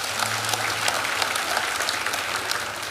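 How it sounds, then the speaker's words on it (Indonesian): Church congregation applauding at a sermon, a steady dense wash of clapping hands filling the room without a break, fairly loud and continuous with no voices on top. "tepuk tangan bagi Tuhan"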